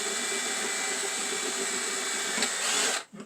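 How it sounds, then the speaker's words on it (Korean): Power drill boring a hole into the top of a plastic PET bottle: a steady, loud whirring drone held for about three seconds, then cutting off abruptly. "제가 여기 위에다 구멍을 뚫어 드릴게요"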